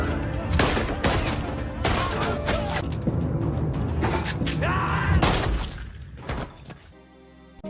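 A rapid fusillade of gunshots in a gangster film scene, dense bursts of loud close firing with shattering and thuds layered over dramatic film sound, ending abruptly.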